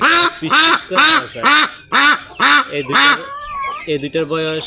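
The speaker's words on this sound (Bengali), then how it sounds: "বন্ধুরা, এ হচ্ছে আমার বেজিং হাঁসের জোড়া" A pair of three-month-old Pekin ducks, a loud female and a male, give a run of about seven close, harsh nasal quacks in steady rhythm, followed by a person briefly speaking over softer calls.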